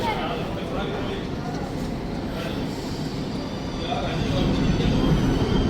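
A train rumbles steadily at a large railway station in Anuradhapura. The rolling rail noise is broad and close and grows slightly louder toward the end, and a voice is faintly audible under it.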